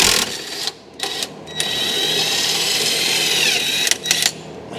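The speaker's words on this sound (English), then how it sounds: "Now I'll release the pressure off that spring compressor." A car spring compressor is released on a 1986 Chevrolet Monte Carlo SS, a power tool whirring loudly and continuously between short bursts and clicks, close up with no talking.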